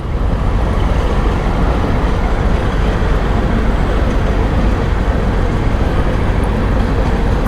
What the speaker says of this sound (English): How long is this freaking train?